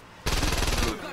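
Rapid automatic gunfire from a weapon in the video game Saints Row 2, a dense burst of about two-thirds of a second with quick repeated shots, loud and close, then cutting off abruptly.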